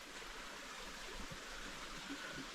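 A creek in Pisgah National Forest flows steadily, a constant broadband rush of moving water close by with no talk.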